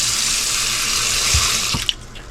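Cold water runs steadily from a faucet in an Airstream trailer up close, with a few clunks as the flow is shut off near the end.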